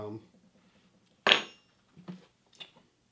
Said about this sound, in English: I'm going to use the spoons to mix